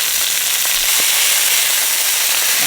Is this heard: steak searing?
yes